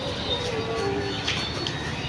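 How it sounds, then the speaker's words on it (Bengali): A train creeps slowly into a station, giving a steady, fairly loud rumble and hiss of rolling stock with platform noise around it. "ট্রেনটা এত স্লো ঢুকছে কেন ভাই?"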